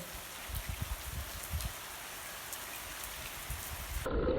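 Steady, fairly quiet hiss of heavy rain falling continuously in the Scottish Highlands near Loch Ness, heard from under a bridge, with occasional low rumbling thumps underneath.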